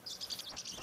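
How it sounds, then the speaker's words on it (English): Bird call in the Call of the Wild video game: a run of repeated high chirps over steady background ambience, moderately loud and alone without talk. "I did not see that bird wherever that was."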